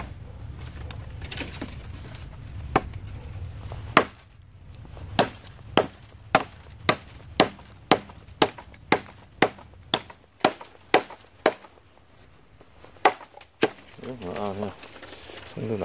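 Hand hatchet, an SOG Camp Axe, chopping wood, about a dozen sharp evenly spaced blows ringing out close and loud, with a softer rustle and scrape at the start and end.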